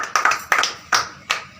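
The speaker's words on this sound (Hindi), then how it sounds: "खाऊ जी ताली मारो हाँ" Four sharp hand claps in an uneven rhythm, each a close, bright smack with a short fade, heard alone in a quiet room.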